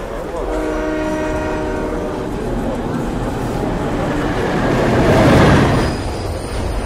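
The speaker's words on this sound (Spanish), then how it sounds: "Atención, el próximo tren no efectuará parada." A train in Hitman: Absolution races through a station without stopping. A long, loud horn blast opens, then a steady rail rumble swells to a peak as the train passes close by.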